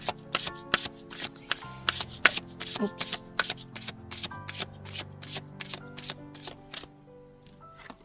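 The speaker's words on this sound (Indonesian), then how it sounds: "Kita bakalan buka 3 kartu." Oracle cards are shuffled and laid out in a steady series of close, crisp slaps and flicks, with a brief spoken word partway through.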